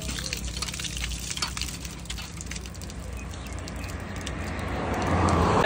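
Cold water runs steadily from an outdoor village tap, a continuous splashing flow that grows louder toward the end, heard close with no talk over it.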